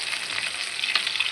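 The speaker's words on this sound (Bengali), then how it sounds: "মাছ মশলা করে ভাজি একদম পোড়া ভাজা দিচ্ছি" Spiced fish frying in a pan of oil, a close, loud crackling sizzle with small spitting pops, unbroken and without voices.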